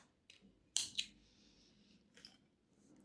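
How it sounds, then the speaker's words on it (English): Two quick snips of scissors trimming excess yarn from a crocheted 3D flower motif, crisp and close, with a fainter snip following in a quiet room. "And cut your excess off."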